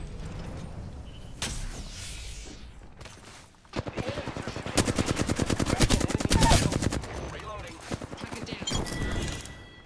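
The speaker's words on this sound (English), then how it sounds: "Getting shot from far." Rapid bursts of automatic gunfire in a shooter video game, sounding distant yet sharp, coming in rhythmic volleys that build and fade over several seconds, with mechanical clicks and a player talking now and then.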